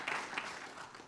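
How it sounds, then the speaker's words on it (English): Faint clapping from a conference audience thanking an organizer at KiCon North America 2025, a brief scattered round of applause heard from some distance. "Give Seth a big round of applause."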